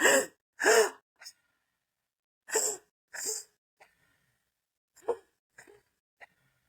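Deep conscious connected breathwork is demonstrated alone in a quiet room: long, loud, breathy inhales through the mouth followed by sighing exhales in a steady repeating rhythm, trailing off into softer, shorter breaths.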